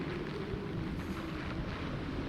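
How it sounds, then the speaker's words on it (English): Strong wind gusts from Hurricane Melissa in Jamaica roar and buffet the microphone in a constant heavy rumble, loud and unbroken with no voices. "wind gusts kicking up right now, in it, bro. and heavy rain."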